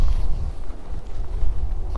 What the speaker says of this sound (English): A little windy, but the way it is, the mic's pretty good on here